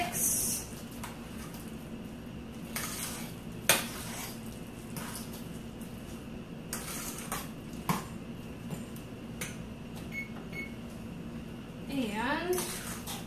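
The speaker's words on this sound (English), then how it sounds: "give that a quick mix" Utensil stirring and scraping in a pan of food seasoned with salt and pepper, with scattered clinks and taps against the metal, under a person talking at a moderate level.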